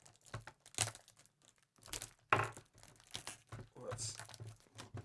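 Tape and aged cardboard packaging being peeled and crinkled off a 1993 Playmates Romulan Warbird toy, with repeated close tearing and crackling bursts between quiet gaps, and faint speech in the background.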